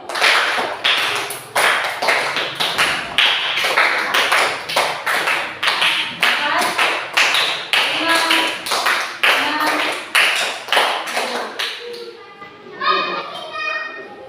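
A fifth-grade class of children in an Indonesian elementary classroom claps together in a sharp, rhythmic counted pattern of repeated beats, loud and close, with children's voices chattering at the end.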